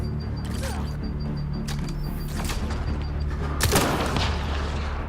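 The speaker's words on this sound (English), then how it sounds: "Still shooting here!" Gunfire in the Mass Effect Andromeda video game, with sharp shots and short bursts cracking over a dense, droning game soundscape, a heavier blast near the end.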